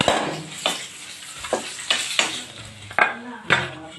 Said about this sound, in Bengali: তেলটা গরম হয়ে গেছে এখন আমি ডিমগুলো দিয়ে লাল করে ভেজে নেব